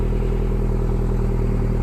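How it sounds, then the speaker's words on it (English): A Peugeot 208 GTi engine runs steadily at idle, a low continuous rumble heard close up with no other sounds. "the car's now running"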